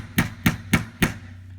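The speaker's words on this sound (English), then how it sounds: "Start it with the hammer," A hammer drives a roll pin into a CZ Scorpion handguard, landing four sharp metallic taps at an even, steady pace, close and clear with no talking.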